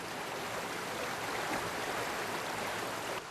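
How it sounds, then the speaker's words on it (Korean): Steady rushing water from a stream, broadband and continuous, flowing without pause and heard alone with no voices. "개울가 물소리 테이크 원"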